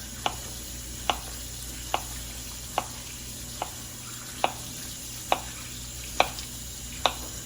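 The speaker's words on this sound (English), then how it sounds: "with your squash, we're gonna cut them in circles" A knife slicing squash into circles on a cutting board, nine evenly spaced sharp taps about one per second, close and clear over a faint steady background hum, no talking.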